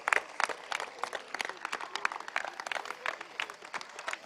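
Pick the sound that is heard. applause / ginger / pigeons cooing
applause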